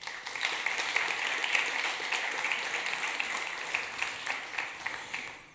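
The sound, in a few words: warm round of applause for conference speaker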